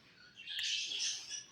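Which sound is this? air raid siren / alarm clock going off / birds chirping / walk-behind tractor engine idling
birds chirping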